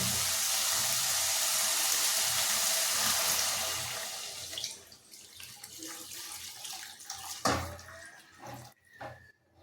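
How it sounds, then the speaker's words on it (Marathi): Water pours steadily into a pot of sprouted-grain usal for about four seconds, a loud broad rush that then thins into splashes, trickles and clinks, with no voices. "आता आपण यामध्ये पाणी टाकायचं."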